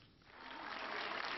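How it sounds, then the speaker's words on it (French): A crowd applauds as Pope John Paul II leaves a hospital by minivan, a dense patter of clapping that swells from faint to steady and fairly distant. "C'est à bord d'un monospace et non de la papamobile que Jean-Paul II a quitté l'hôpital sous les applaudissements de la foule"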